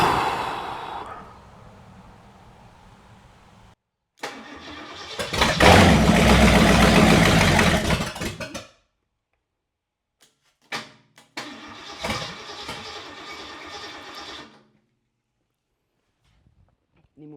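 A 1968 Mustang V8 with a flat tappet camshaft, started for break-in, cranks and catches in a loud revving burst of several seconds. It dies to silence, then sputters through another shorter run before stopping.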